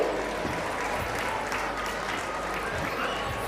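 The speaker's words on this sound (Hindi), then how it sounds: "दर्शकों, एक बार जोरदार तालियां हमारे इन बच्चों के लिए" An audience at a school annual function applauds the children in a dense, continuous wash of clapping that stays loud and even throughout, with no speech over it.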